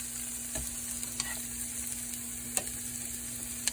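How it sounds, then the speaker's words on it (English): Onions fry lightly in a pan with a little butter, giving a faint, soft sizzle under a low steady hum, with a few quiet clicks and taps from stirring. "But we're just going to lightly do these onions."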